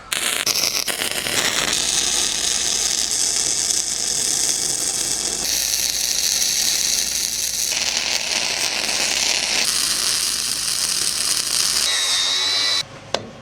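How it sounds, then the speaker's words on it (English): A trailer part is being welded back on along a bevelled edge, producing a loud, continuous crackling buzz that shifts in intensity across several long passes before cutting off near the end. No speech is heard. "Beveled the edge a little bit so I can get some weld in there."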